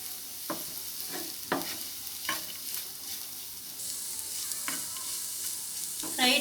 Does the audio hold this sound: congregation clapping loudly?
no